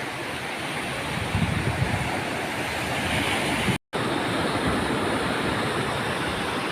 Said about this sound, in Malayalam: നല്ല തിരയാട്ടോ ആ കടലില് ഗംഭീര തിര